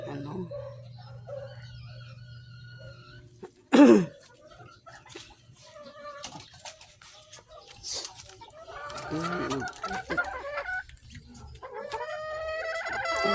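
Chickens cluck and crow intermittently at a moderate distance, with a loud burst partway through and scattered farmyard noise throughout.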